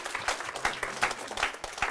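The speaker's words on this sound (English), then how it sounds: "give them a big round of applause, our championship team" An audience at a school social studies scholars competition applauds the championship team, moderately loud continuous clapping from many hands filling a room for about two seconds.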